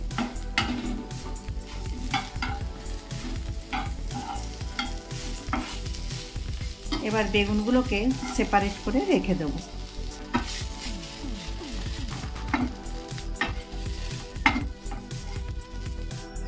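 Eggplant frying in a little mustard oil and being stirred, a steady close sizzle with scraping strokes of a spatula throughout, and a voice speaking briefly partway through.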